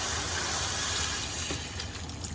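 Water poured into a cooking pot for pork sinigang, a steady broadband splashing gush running throughout without talk.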